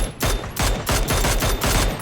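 Rapid bursts of automatic gunfire in the PUBG battle royale game, several loud volleys in quick succession with brief gaps between them and no talk over them.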